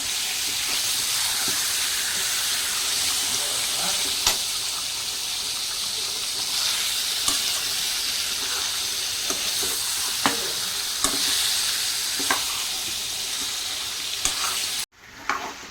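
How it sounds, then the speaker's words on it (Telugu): Chicken frying in a pan for a simple chicken fry, loud and close: a steady, dense sizzle runs throughout, punctuated by occasional clicks of the stirring spoon, then cuts off abruptly near the end. "చికెన్ వేసుకొని మంచిగా అయితే మిక్స్ అయ్యేటట్టు కలిపేసుకున్నాం."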